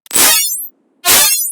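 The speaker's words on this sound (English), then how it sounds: "Let's say we have a really resonant heavy sound like this one." Two loud, heavy synth stabs made in Serum with bright resonant high end, each swelling and cutting off, separated by a short pause.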